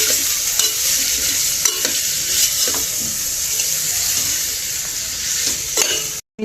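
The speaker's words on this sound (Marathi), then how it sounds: "टोमॅटो ॲड केले याच्यामध्ये, हे मिक्स करून घेऊयात आता." Tomatoes being stirred into spices frying in a pan, bright wet sizzling with repeated scraping and clinking stir strokes, close and loud, without voices, ending abruptly.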